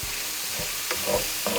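Onions, celery and diced cremini mushrooms sizzling loudly in a pan for a saffron risotto, a dense steady hiss with a few soft stirring bumps and no voices.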